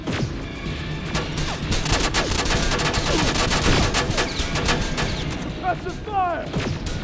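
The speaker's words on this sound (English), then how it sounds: "Keep firing!" Dense, rapid gunfire from a firefight in Terminator: Resistance rattles throughout, with overlapping bursts and sharp impacts, while shouting voices sit underneath the continuous shooting.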